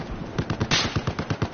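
Rapid automatic gunfire in a Battlefield 4 match, a close, loud burst of about a dozen shots fired in quick rhythmic succession with no talking.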